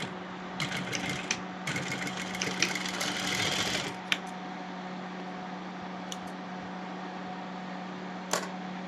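A sewing machine runs in short bursts while stitching lining cloth for an invisible zip on a maxi dress, with a steady motor hum, a rapid needle chatter, and a few isolated clicks afterward.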